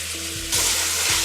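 Fresh garlic sizzles in a hot pan, a steady close frying hiss that swells abruptly partway through, with no talk.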